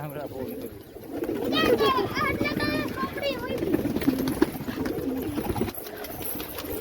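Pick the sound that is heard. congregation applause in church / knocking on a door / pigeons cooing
pigeons cooing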